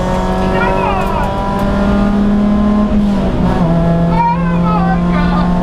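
Ford Puma Cup race car engine heard onboard at Donington Park, a loud steady drone that shifts pitch with revs and gear changes, sweeping up and dropping as it climbs and lifts through corners, with no break for the whole stretch.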